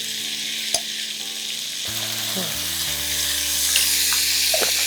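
Ginger spattering and crackling as it fries in oil with turmeric for Armenian-style Bengali khichuri, a steady close sizzle with sharper pops and clinks of a spoon stirring.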